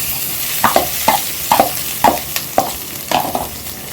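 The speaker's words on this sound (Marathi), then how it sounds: "आता ह्या आपल्या तुपामध्ये आपलं खोबरं किसलेलं आहे ना ते घालून घेते" Grated coconut is stirred in hot ghee in a pan, producing rhythmic spatula scrapes about every half second over a soft, steady sizzle, close up with no voices.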